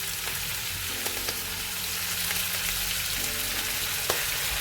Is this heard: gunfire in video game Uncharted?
no